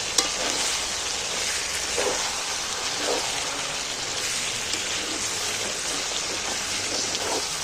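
Chicken with coriander leaves being stirred and sautéed in a pan gives an even, rain-like sizzle throughout. Soft scrapes from stirring surface now and then, with no talking.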